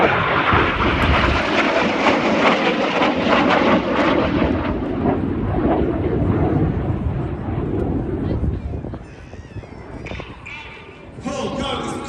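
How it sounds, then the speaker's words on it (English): RAF Red Arrows jets at the Midlands Air Festival pull hard up during their air display. The engines give a loud, broad roar that slowly fades into a more distant rumble, with a voice talking over it. "Each aircraft now pull hard up."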